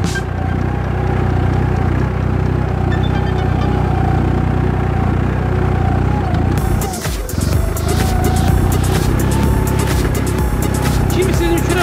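Başak 206 tractor engine running steadily while pulling a spring cultivator through a weedy olive grove, a loud continuous low drone with a brief dip midway before resuming.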